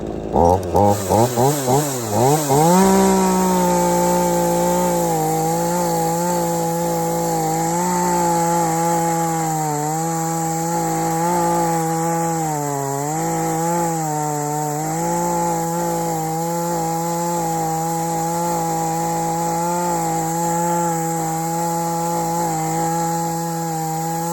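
A chainsaw pulls over in a few quick sputters, then catches and runs loud and close, its pitch wavering as it cuts through wood on a landscaping job.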